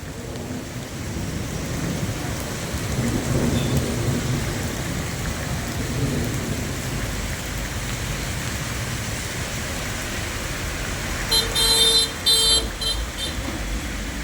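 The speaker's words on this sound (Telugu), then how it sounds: "డివైడర్ పక్కన ఏ విధంగా వర్షం అనేది కురుస్తున్నది" Steady heavy rain with thunder roars across a main road in Mallapur during a power cut, a continuous dense wash with some rumbling low noise and brief high tonal bursts near the end.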